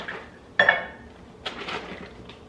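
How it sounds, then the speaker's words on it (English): A small saucepan clinks and knocks against kitchenware as half-and-half is poured in, two distinct clattering bursts close by with quieter handling between, no talking. "Grabbing my smallest saucepan and 1/2 cup"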